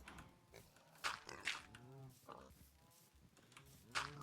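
Blocky Minecraft-style farm pigs, small baby pigs among them, giving several short grunting oinks scattered at irregular intervals, with a person talking over them much of the time.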